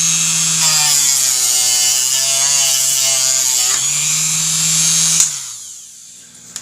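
Fine 400-grit sandpaper worked over gouges on a dropped motorcycle's bodywork, a loud, steady, dense scraping hiss with a faint tonal whine, running continuously for about five seconds before stopping abruptly.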